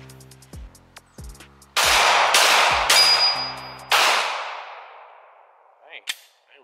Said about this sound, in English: I didn't realize I had shot that many bullets